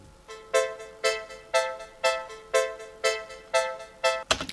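A backing sequence loop in Magix Music Maker plays at 120 beats per minute as a regular series of bright tonal stabs, about two per second. Each one strikes sharply and then decays, with no voices present.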